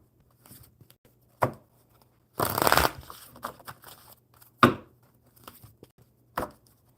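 Tarot cards are shuffled in several short bursts of riffling and slapping, one longer rustling run in the middle, close and fairly quiet with pauses between.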